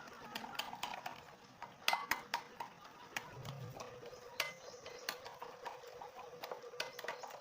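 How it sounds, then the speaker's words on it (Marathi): Dhokla batter of curd, semolina and sugar being stirred in a bowl, with irregular clinks and scrapes of a spoon against the vessel, close and fairly quiet, some sharp taps among softer swishing. "आता हे सगळं मिक्स करून घ्यायचं आहे"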